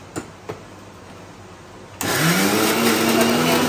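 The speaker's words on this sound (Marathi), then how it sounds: "परत आपण एकदा मिक्सर लावतो" Mixer grinder churning medu vada batter with a little water starts abruptly after a couple of faint knocks, running loud and steady with a rising motor whine that climbs in pitch as the blades spin up.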